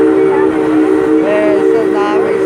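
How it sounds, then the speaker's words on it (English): The Six Flags St. Louis park train runs with a steady, loud tonal hum and rumble of wheels on track, sustained without pause. "We're not entering St. Louis train station."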